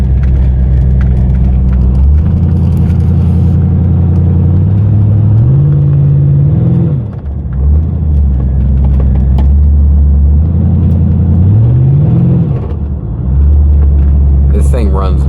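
A C4 Corvette engine idles with a deep steady rumble, blipped twice into short revs that rise and fall back, while someone talks over it.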